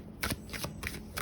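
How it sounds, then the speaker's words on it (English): A large, oracle-sized Ritual Tarot 2nd Edition deck being shuffled, four quick papery riffling bursts in an even rhythm, close and moderately soft, with no voices. "I'm going to shuffle this"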